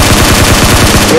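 Rapid automatic fire from a Groza rifle in a video game, a loud continuous burst of evenly spaced shots lasting about a second with no voices over it.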